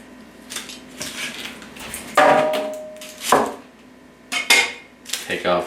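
A cleaver slicing a small onion thinly on a cutting board for a Chinese sausage egg omelette, with sharp knocks and scrapes at irregular intervals and some dish clatter, close and fairly loud.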